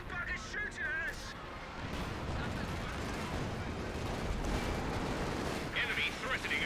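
Gunfire and battle noise from the real-time strategy game Company of Heroes 2, with dense crackling shots and rumbling explosions forming a continuous din throughout.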